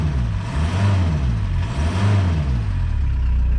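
A running Volkswagen Golf 2 1.6 TDI diesel engine with a wavering low drone and a faint turbo whine on top, rising and falling a couple of times before settling.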